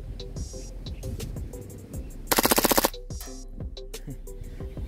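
WE Hi-Capa Type K airsoft pistol firing a short full-auto burst of about eight rapid cracks, loud and close, amid outdoor background noise with scattered softer knocks around it.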